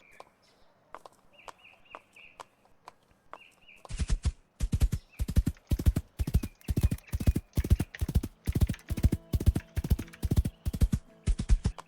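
Horse hooves from a Roman Empire themed video game clip-clop in a fast, steady rhythm, loud and close, after a few quieter scattered steps, with faint birdsong in the background.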